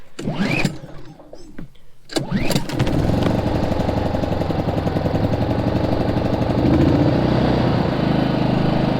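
A portable camping generator engine runs in run mode, starting after a few clunks and pull sounds and then droning loudly and steadily up close with a rough, buzzing mechanical hum.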